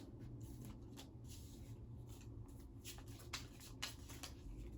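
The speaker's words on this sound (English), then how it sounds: "So I shuffle, and then I like shuffle until one card comes out, flip it over, and then I cut the deck." Mini pocket tarot deck being shuffled by hand, a soft continuous run of papery card slides and riffles with quiet flicks, close by and low in level, no voices.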